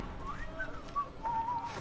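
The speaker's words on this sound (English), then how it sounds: "You're whistling suspiciously." A person whistles a short, wavering tune of a few rising and falling notes, fairly close and moderately loud over a low background hum, with no talk.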